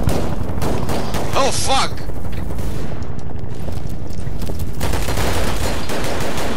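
Rapid gunfire rattles loudly in the shooter game Double Action Boogaloo, dense bursts with a brief lull, while a player swears over it.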